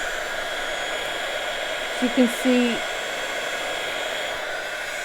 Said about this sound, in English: you want to preheat your heat gun for about